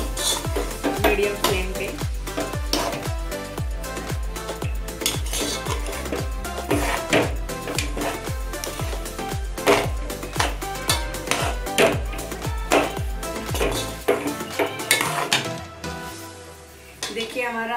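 A spoon scrapes and clinks steadily against a metal pan while bread halwa with cardamom powder is stirred over a medium flame, a fast repeated rhythm that stops near the end, with a voice talking over it.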